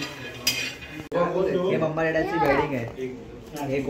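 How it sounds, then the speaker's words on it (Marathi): Peanuts roasting in a pan at home, with metal clinks and scraping of a utensil against the pan beneath steady nearby talking. "तर इथे आम्ही शेंगदाणे भाजत आहोत"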